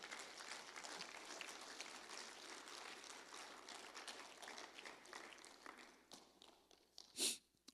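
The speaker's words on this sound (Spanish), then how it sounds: "Denle aplauso fuerte al Señor." Sustained applause from a church congregation, steady clapping filling the room before tapering off, ending with a single louder thump.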